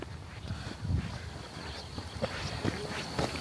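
Steady wind gusting across an open hilltop on Bukit Trunyan at about 1,834 metres, roaring and buffeting against the microphone with a continuous rushing texture and occasional stronger bursts.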